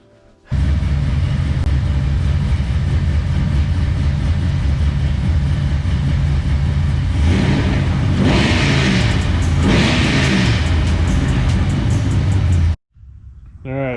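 A 408 cubic-inch LSX V8 stroker engine in a GTO roars steadily at high revs with a deep, loud rumble, surging louder in two swells near the end before cutting off abruptly.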